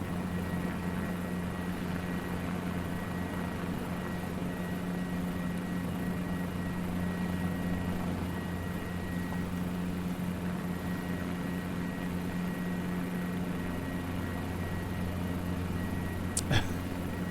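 A Guimbal G2 helicopter's rotor runs in Microsoft Flight Simulator 2020, a steady low droning hum held throughout, ending with a sharp click near the close.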